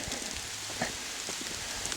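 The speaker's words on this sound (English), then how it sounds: "it just started hailing. It's really small, it doesn't hurt" Small hailstones falling on a sunny mountain hike in New Hampshire, a steady light pattering and ticking spread evenly across two seconds, with a few slightly sharper taps standing out.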